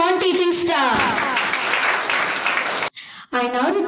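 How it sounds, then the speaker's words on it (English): Applause for the non-teaching staff at a school cultural event, a burst of crowd clapping under an amplified voice at the start, then a brief silence before the announcer's voice returns. "Please clap for our non-teaching staff."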